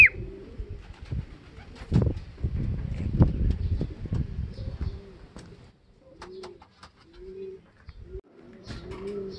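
Soft, low coos from a racing pigeon repeat in short bursts, close by, alongside scraping, rustling and shuffling noises.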